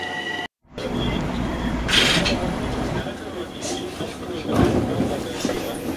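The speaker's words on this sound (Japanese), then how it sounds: "電車はですね茅ヶ崎駅を出発しました" A JR 205 series electric commuter train rumbles and rattles steadily from inside a non-motor carriage departing Chigasaki Station, with a low running drone, occasional clatter and brief surges of noise as it gets underway.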